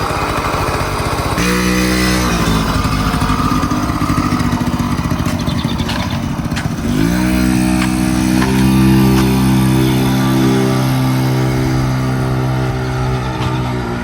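A motorcycle prepared for Big Sky race week is revved on a test ride. The loud engine climbs in pitch twice and then holds a strong, steady high-rev note, with no talk.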